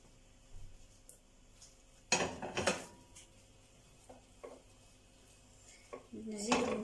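Spoon scraping and clinking against a bowl while stuffing a pepper with filling in a home kitchen, with several sharp metallic clanks and scrapes in irregular bursts amid quiet pauses.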